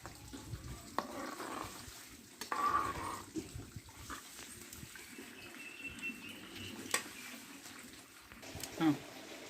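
Soft, quiet bubbling of a citron curry simmering gently in a pot, with faint intermittent pops and watery sounds close by.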